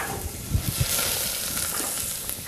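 Onions go into hot olive oil in a pot for a fava bean dish, a close, steady hiss of frying with a few soft knocks early on, no voices.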